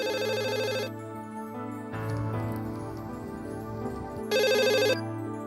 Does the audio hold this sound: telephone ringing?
yes